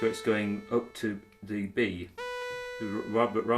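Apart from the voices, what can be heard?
No everyday noises stand out.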